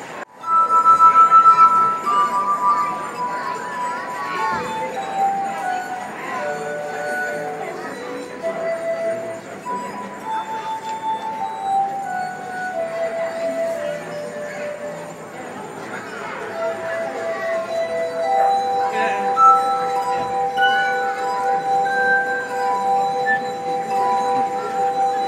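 A glass harmonica of water-tuned drinking glasses rings out in sustained, pure gliding tones, one note melting into the next in a slow melody for the whole stretch, with faint crowd murmur and clinks beneath.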